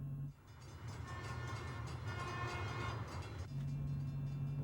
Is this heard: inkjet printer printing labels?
no